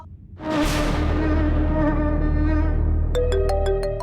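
A phone rings indoors in a home drama scene: a sustained buzzing electronic tone gives way to a quick series of repeated ringtone beeps near the end.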